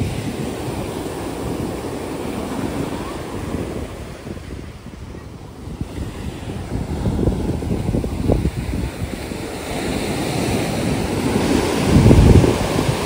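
Ocean waves wash steadily onto Tondavali beach near Malvan at sunset, a continuous rushing surf with swells building louder toward the end, mixed with gusty wind buffeting the microphone.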